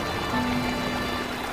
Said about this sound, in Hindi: बारिश बहुत ज्यादा तेज थी।